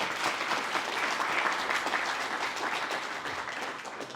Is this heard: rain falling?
no